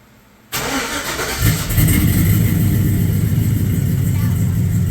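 A 1986 Suburban engine with newly fitted exhaust pipes cranks, catches and settles into a loud, steady, deep rumbling idle close to the microphone.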